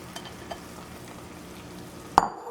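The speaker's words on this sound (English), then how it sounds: "Alright, now it says that I'm gonna add my zucchini and my mushrooms." Zucchini and mushrooms frying in a pan, a steady low sizzle with faint stirring scrapes, then one sharp clack near the end; close and moderate, no talking.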